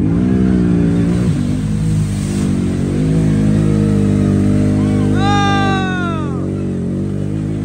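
A CF Moto two-wheel-drive ATV revs hard through a mud hole, its engine droning loud and close with rising and falling surges. Excited voices shout throughout, nearly as loud as the engine.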